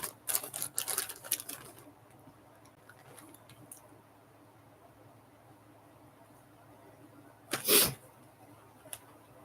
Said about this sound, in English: I'm sorry if I go mid sneeze sometimes